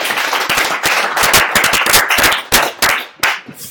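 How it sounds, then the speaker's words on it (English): An audience at a monthly entrepreneurs' pitching evening claps loudly, close crisp handclaps that thin out into scattered final claps. "So please clap your hand for European residents."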